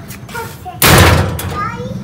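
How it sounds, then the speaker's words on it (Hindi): A door bangs shut once at home, a sudden loud thud followed by a short rumbling tail, with children and adults talking quietly before it. "दरवाजा बंद करना।"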